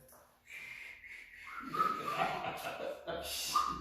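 A thin, wavering whistle produced during tongue rolls rises and falls alongside breathy rolling noises and faint voices, close to the microphone.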